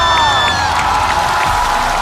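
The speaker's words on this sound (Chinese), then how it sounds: "掌声有请" Studio audience at a stand-up comedy show cheering and applauding as comedians are welcomed on stage, a loud dense roar of whoops and clapping filling the whole moment.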